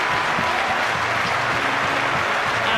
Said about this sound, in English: And the home support, rich in their applause for that.